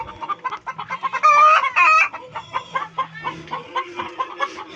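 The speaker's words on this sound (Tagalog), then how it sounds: "Ito yung mga alaga ng pamangking ko guys, oh. Mga broiler." Broiler chickens kept on a small Filipino farm cluck and squawk in a loud, close, busy cluster, with a couple of louder drawn-out calls rising above the steady chatter.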